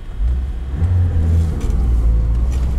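A car engine strains in a low gear while climbing a snowy hill, a deep rumbling drone that swells as the revs build, steady and close with no talking.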